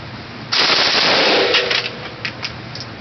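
A rifle fitted with a red dot sight fires a rapid burst of close, loud shots, followed by a few scattered single shots as the noise fades.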